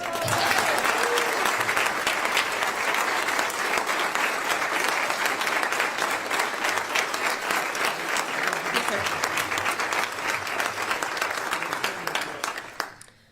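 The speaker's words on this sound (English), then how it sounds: "Give her a round of applause." An audience at an Air Force brigadier general's retirement ceremony gives sustained applause, a dense, even roar of many hands clapping for about thirteen seconds before it tapers off.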